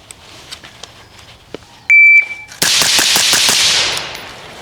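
Six rapid rifle shots from an AR-15 crack out in a quick, evenly spaced string, loud and close, preceded by a shrill electronic shot-timer beep.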